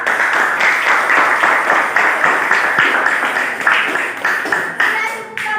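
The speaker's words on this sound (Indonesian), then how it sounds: "Kasih aplaus dulu untuk kelompok 3." Classroom applause for a student group presenting, a dense steady wash of many hands clapping close by, continuing for several seconds with slight swells and dips.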